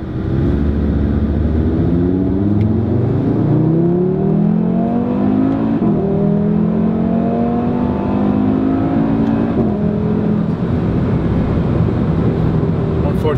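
Audi RS3 Sedan with a 7-speed gearbox accelerating hard on an open road, a loud continuous engine note rising in pitch through several gear changes, heard from inside the car.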